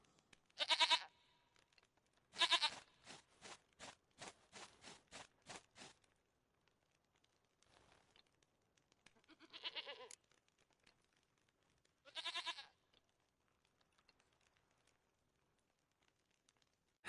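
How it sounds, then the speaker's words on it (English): A goat bleats in The Witcher 3 video game, several loud, separate bleats with quiet gaps between them, heard alone without talk. "Goat of mine, dearest, sweetest goat."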